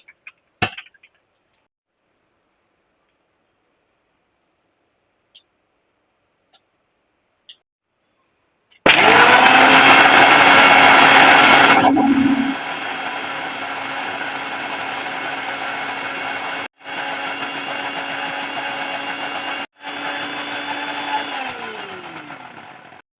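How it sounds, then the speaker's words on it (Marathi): A kitchen mixer grinder blends milk and mango into a shake, starting after quiet taps with a loud steady whine, then running as a lower continuous hum broken by two brief stops before winding down. "आपल्याला मिक्सर मधनं फिरून घ्यायचं आहे."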